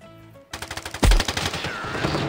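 Rapid bursts of FAMAS rifle fire in a video game, loud close rattling shots in a quick rhythmic volley with one heavy booming impact, after a quieter musical background.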